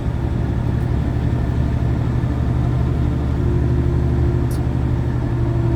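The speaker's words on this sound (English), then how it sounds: "I don't know if you can hear that whining or not, but it appears that my power steering pump is having some issues now" A car's failing power steering pump gives a thin steady whine over a constant low engine rumble heard from inside the vehicle, loud and unbroken with no talking.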